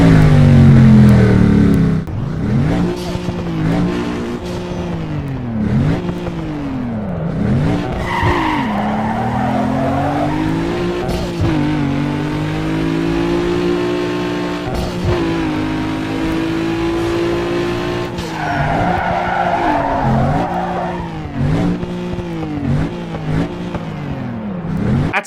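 Unused NASCAR stock car engine sound from Need for Speed Underground 2, a loud, close engine repeatedly revving up and dropping back in long sweeping pitch swoops over about 25 seconds, with tire skid noise and no talking.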